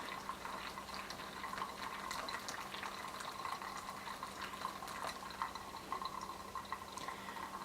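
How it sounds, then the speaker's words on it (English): Water from a pour-over coffee brew trickles and drips steadily through the grounds, a quiet, continuous patter of small liquid ticks close to the ear with no talking. "we're going to wait for that draw down again for that water to come through those grounds"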